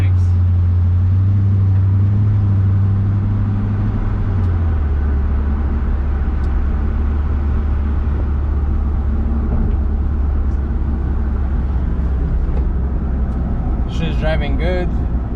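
A Ford Mustang with a swapped-in V8, converted from a V6, cruises on a test drive, its engine a steady low rumble with road noise throughout, and a voice speaks briefly near the end.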